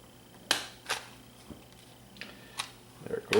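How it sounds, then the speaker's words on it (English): Sharp plastic snaps and clicks sound as the casing of a Harmony 880 remote is pried apart, a few separate cracks spaced out over a quiet background, close and crisp. "we're just going to pop the unit apart, and we can just probably just have to pry this thing apart a bit here"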